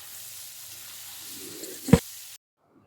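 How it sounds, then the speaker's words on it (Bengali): Sliced onions fry in hot oil seasoned with bay leaf, whole cumin, cardamom, cinnamon and cloves, giving a steady close sizzle with a brief clatter near the end before the sound cuts off abruptly. "এবার পেঁয়াজগুলো ভালোভাবে ভেজে নিচ্ছি।"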